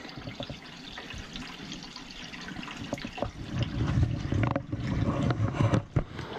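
Water drains from a neglected, plugged-up steam boiler, splashing and gurgling steadily with occasional knocks and sputters, growing heavier toward the end.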